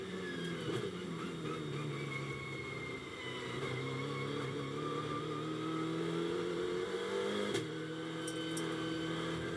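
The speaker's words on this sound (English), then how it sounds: "Bobelik grabs a gear, accelerates along that back part of the circuit down towards turn 8" A GT2 race car accelerates through its gears along the back section of the Misano circuit. The engine drone is loud and steady, climbs in pitch, and a sharp shift comes near the end.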